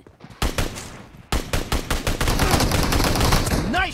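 Gunfire from the mobile battle-royale game PUBG Mobile, an SKS rifle among the weapons, cracks out as a loud burst of rapid shots, then a brief lull and another run of repeated shots that settles into dense, sustained firing.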